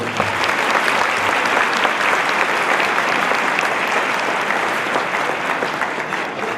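A crowd gives loud, sustained applause for the mayor at a Gaziantep book-reading competition event, dense steady clapping from many hands close by throughout.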